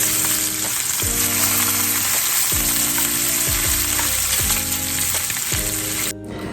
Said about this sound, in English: Just fry your bacon.